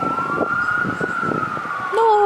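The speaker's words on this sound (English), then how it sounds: "Uh-oh, siren." A wailing siren sweeps steadily in the background, rising in pitch near the end as it draws closer, with a person talking over it.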